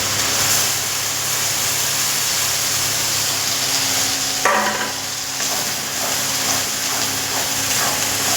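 Green pea paste is stirred nonstop in oil in a frying pan over lowered heat, a steady sizzle and hiss with a soft scraping of the spatula running throughout, close and continuous.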